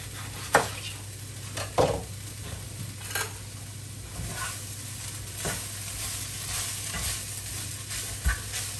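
Apple slices frying in fat in a pan, a steady soft sizzle with occasional sharp clicks and stirring knocks of a utensil against the pan, close and quiet with no talk.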